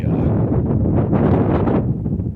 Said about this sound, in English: sorry if it's a little windy. This place is always windy.